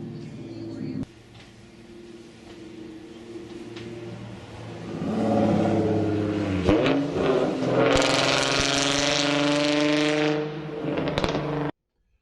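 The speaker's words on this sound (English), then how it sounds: "This clip right here will just show you the variance between good mufflers and not good mufflers." Car engines revving with loud versus quieter mufflers, a low steady idle building to a louder, rising roar of revs with harmonic whine, then cutting off abruptly at the end.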